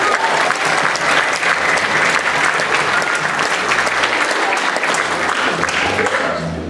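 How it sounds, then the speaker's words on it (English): A room full of parents and guests at a grade 7/8 school orchestra event gives the young musicians a big round of applause, loud sustained clapping close by that fades only slightly at the very end. "Big round of applause for them."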